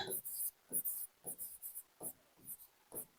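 Chalk writing on a board during a chemistry lesson, a series of short, regular scratchy strokes with brief pauses between them, close and fairly quiet.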